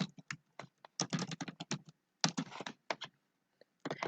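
Someone types on a computer keyboard in quick irregular bursts of close, crisp key clicks separated by short pauses, with no voices.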